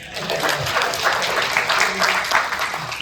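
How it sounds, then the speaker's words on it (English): A crowd applauds steadily for a few seconds at a tech conference talk, a dense wash of clapping with some voices mixed in. "Round of applause for me."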